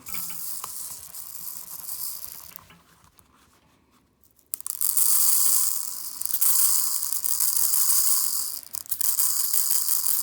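Magnum balance beads pour into a 35x12.50-17 tire as a steady, hissing rattle. The stream thins out and nearly stops partway through, then resumes louder and continues to the end.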